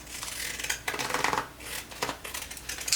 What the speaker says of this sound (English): Those are just some deckled scissors.